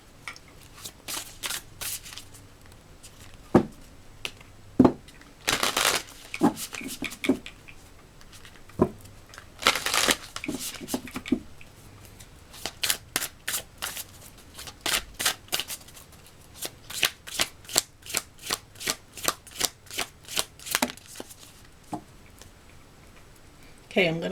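Tarot cards are shuffled at length, giving rapid, rhythmic riffling clicks and slaps in irregular bursts that grow into a steady patter, close and soft, with a voice present at times.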